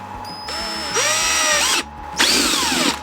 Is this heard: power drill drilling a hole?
yes